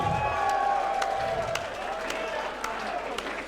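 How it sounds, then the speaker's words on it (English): Crowd noise fills the space after a five-round boxing main event between Scott Penders and Rants N Bants, a steady broadband wash of applause and cheering with some scattered vocal calls throughout. "Can we get a round of applause for Scott Penders and Rants and Bants"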